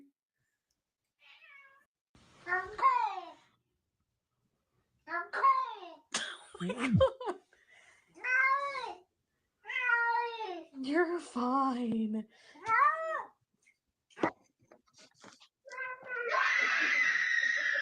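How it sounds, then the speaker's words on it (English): Cat meowing repeatedly in short, varied chirping calls across the whole stretch, close and moderately loud, with a person talking briefly between the meows and some coughing and giggling near the end. "Cat talking moments."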